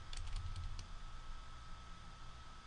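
Computer keyboard keys pressed during Photoshop editing, a quick cluster of clicks early on, then fading into a steady low hum of room noise.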